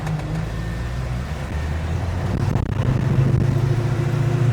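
A 1969 Chevy Nova with a big block Chevy V8 making over 600 horsepower idles close by, a steady deep engine rumble that grows slightly louder and rougher toward the end.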